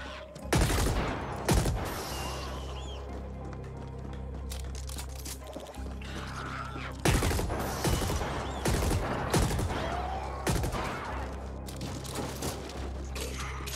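Rapid bursts of gunfire from the dread gun in the video game Ascent, loud close volleys repeating every second or two over a low droning background, with no talk.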